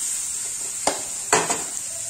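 Chopped garlic, onion and carrot sizzle steadily in hot oil for veg momo filling, with a few scraping stirs of a spoon against the pan cutting through the hiss.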